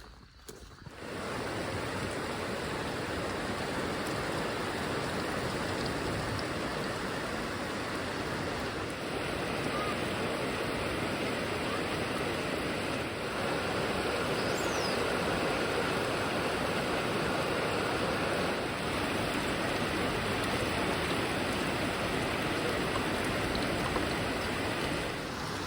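Steady rain from a passing storm pours down continuously for the whole stretch, a dense broadband hiss with no breaks and no voices.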